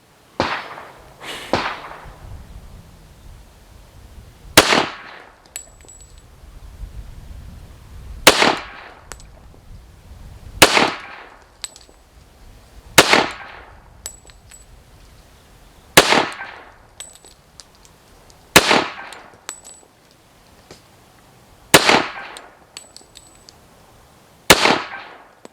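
About ten sharp, loud pistol shots at a shooting range from a 1911 and a Glock 21, fired singly at an unhurried pace of a few seconds apart, each a crisp crack with a short ring, with no talking.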